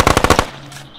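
A heavy machine gun fires in the Squad video game: a quick close burst of about six loud shots, then a fading echo.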